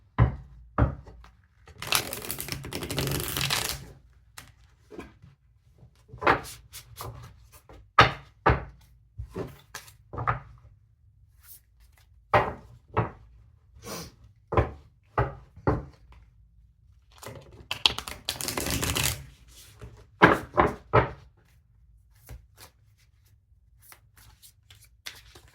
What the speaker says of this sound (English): Feel free to fast forward through the shuffling if you want.